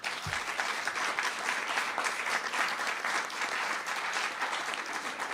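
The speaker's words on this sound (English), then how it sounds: "So let's give a round of applause for these guys one more time." Steady applause from an audience at a Maryland offshore wind memorandum signing, a dense, even patter of many hands held for several seconds, heard from some distance and fairly soft.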